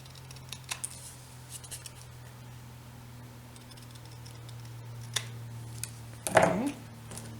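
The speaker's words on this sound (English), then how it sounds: "So I'm going to cut this off." A single short snip of scissors cutting off a strip of material, heard near and fairly quiet against a steady low hum and light background rustle, with no voices.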